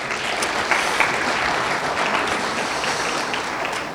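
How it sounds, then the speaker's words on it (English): A live audience applauds the band at a Dr. Martin Luther King Jr. Day celebration, steady dense clapping that fills the hall for the whole stretch, loud and sustained with no voices over it. "I'd like to give another round of applause for our band"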